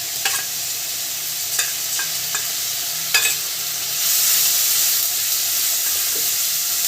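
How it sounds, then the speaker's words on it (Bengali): Onion frying in oil with ginger-garlic paste, a steady close sizzle with occasional spoon clinks, swelling into a louder, brighter hiss as the paste hits the pan. "পেঁয়াজটা তেলের মধ্যে একটু নেড়ে নিয়েছি এর মধ্যে আদা রসুনের পেস্টটা দিয়ে দেবে"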